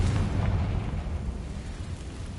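A blasting spell from Hogwarts Legacy erupts in a dense, booming explosion that rumbles loudly and steadily through the whole moment, with a heavy low roar fading only slightly toward the end.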